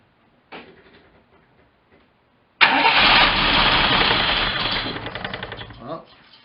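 An MG MGC GT with fresh spark plugs cranks briefly, then catches and roars loudly into a rough, choking run for several seconds before sputtering and dying away; only faint sounds precede it.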